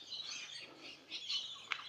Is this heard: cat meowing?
no